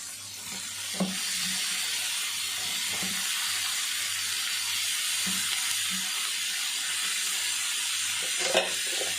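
Eggplant fries in a pan with a steady soft hiss and sizzle, broken by a few light knocks and scrapes of stirring, moderately faint with no talk.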